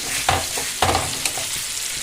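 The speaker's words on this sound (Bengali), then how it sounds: "এবারে পুরটা ভালোভাবে কড়াতে নেড়ে একদম মানে গোল মতন করে নেবো" A spoon scrapes and stirs soft potato filling in a hot kadai, a few distinct scraping strokes over a continuous low sizzle, close and fairly loud.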